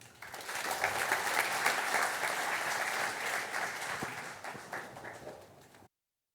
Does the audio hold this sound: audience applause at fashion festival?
yes